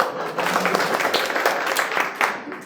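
An audience at an industrial attachment session breaks into applause, a dense burst of many hands clapping together, loud and close, fading slightly at the end.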